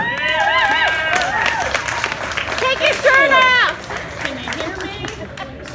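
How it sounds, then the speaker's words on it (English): Audience applause and cheering for a comedian at a stand-up class show, clapping mixed with whoops and crowd chatter, with voices talking and calling out over it. "give a huge round of applause to the very, very funny Elle Benson"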